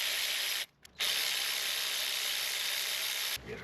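A tool works loose two 10 mm bolts on the high-pressure fuel pump of a 2016-2018 Kia Optima, giving a loud continuous hissing whir that cuts out briefly twice near the start and drops again at the end.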